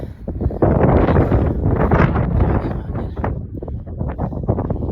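Strong wind buffets the microphone on a mountain peak in Saudi Arabia in loud, roaring gusts that ease slightly toward the end, with no one speaking.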